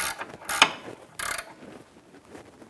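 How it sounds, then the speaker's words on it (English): A ratchet wrench clicks in two short bursts while turning a sway bar link nut on a 2009-2014 Nissan Maxima, close and fairly crisp, with no talk. "19mm wrench on the inside. And my 18 ratchet wrench."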